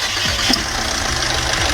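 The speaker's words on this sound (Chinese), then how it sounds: "这台奔驰 ER60 发动机启动延迟有异响" A Mercedes-Benz M271 engine with a faulty timing chain and camshaft timing fault runs loud and close, with a steady rough mechanical rattle through the whole clip.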